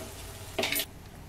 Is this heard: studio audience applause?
no